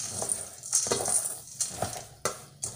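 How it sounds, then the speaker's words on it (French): Seeds and nuts being stirred together for trail mix in a salad bowl, close clattering and rattling with a spoon knocking the bowl in uneven bursts, no voices. "Je mets tout dans mon saladier, je mélange."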